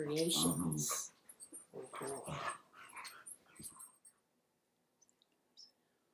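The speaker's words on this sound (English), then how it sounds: "those are our silly dogs fighting under the table" A person talks over dogs growling and yipping as they scuffle under a table nearby, then the growls fade into quieter intermittent noises.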